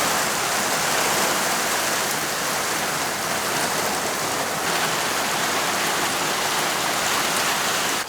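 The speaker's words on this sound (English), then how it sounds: "It's still raining" Dense, steady hiss of heavy rain pours down continuously, close and unbroken, with no talking.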